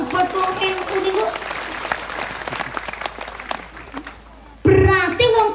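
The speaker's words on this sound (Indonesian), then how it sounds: "Tepuk tangan dulu dong buat wong niku." Applause from the audience at a public religious gathering in a village, a burst of close clapping that fades away, followed by a voice speaking loudly.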